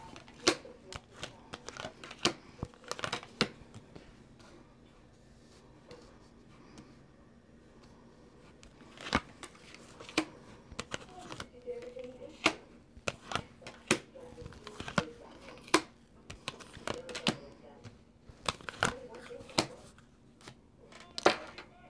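Tarot cards are shuffled in repeated quick riffles and taps, crisp and close, in irregular clusters against a quiet room.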